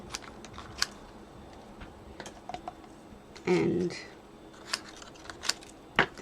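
Scissors snip through stamped paper crosses for an Easter card, giving crisp, close cuts and clicks in an irregular rhythm, with a brief spoken word.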